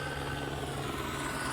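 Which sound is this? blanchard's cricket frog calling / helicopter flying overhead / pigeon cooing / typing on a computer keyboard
helicopter flying overhead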